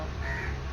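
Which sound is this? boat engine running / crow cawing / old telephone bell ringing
crow cawing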